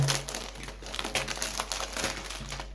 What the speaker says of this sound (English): Tear this thing open.